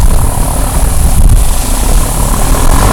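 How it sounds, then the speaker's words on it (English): A 2003 Ford Lightning truck with side exhaust, long tube headers, no cats and MagnaFlow exhaust rumbles in a loud, dense, steady roar close by, with no voices. "the notable difference is the side exhaust"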